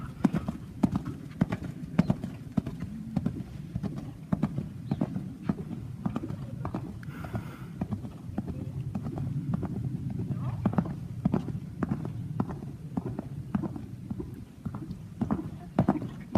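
Horse hooves trot in a steady, rhythmic clip-clop through a riding lesson, close and clear, with an instructor's voice talking over the footfalls.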